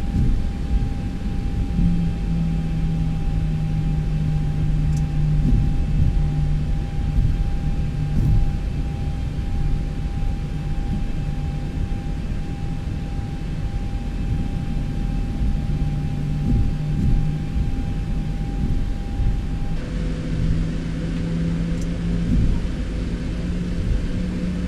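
An airliner taxis in the X-Plane flight simulator, a steady engine drone and broad rumble with a constant whine running beneath, loud and unbroken throughout, without talking.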